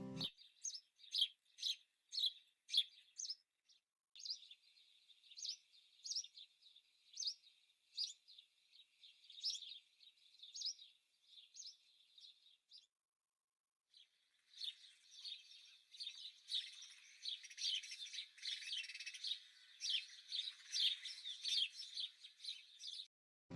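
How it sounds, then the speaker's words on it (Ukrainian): A sparrow's recorded song: rapid, bright, repeated chirps in short bursts, then a denser stretch of continuous twittering, heard clearly with no voices over it. "Давайте послухаємо, як співає горобчик."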